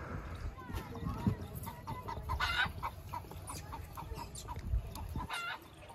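Chickens cluck repeatedly in a Pakistani village yard, with bursts of clucking and squawks at moderate distance under a steady background, and a voice speaks at times.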